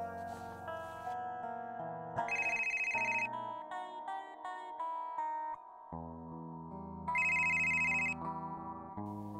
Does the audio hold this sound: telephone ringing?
yes